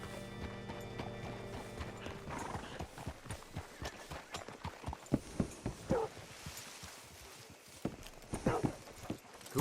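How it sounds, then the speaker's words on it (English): Horse hooves clip-clop steadily at a walk in the Red Dead Redemption 2 video game, close and fairly quiet, mixed with mechanical creaks and rattles of tack. "Hitch your horse up here."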